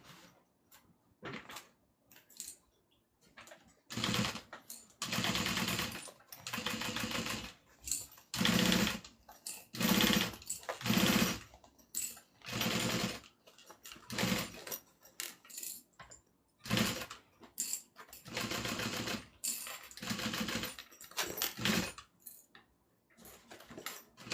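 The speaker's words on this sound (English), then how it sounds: "Let's go ahead and sew this down" A sewing machine stitches down a satchel strap in repeated bursts of rapid mechanical chatter, starting and stopping over and over with short pauses between runs, close and fairly quiet.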